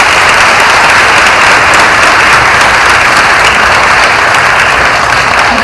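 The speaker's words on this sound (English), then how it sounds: "so a big clap for them too, please." A film festival audience on closing night claps loudly for family members in the house, a continuous, dense wall of applause from a large crowd with no break throughout.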